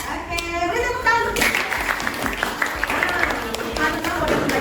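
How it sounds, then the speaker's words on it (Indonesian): Students in a junior high school classroom in Cilegon break into sustained applause after a short spoken line, the clapping forming a fairly even, moderately loud wash that lasts about three seconds. "beri tepuk tangan"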